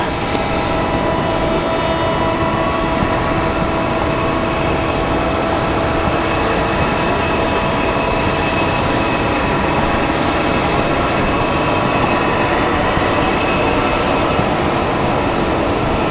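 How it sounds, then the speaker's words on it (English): A Boeing 737-800 jet departing Raleigh-Durham airport, a loud, steady, broad engine roar sustained throughout without letup, heard close and alone. "That is our 737-800 leaving."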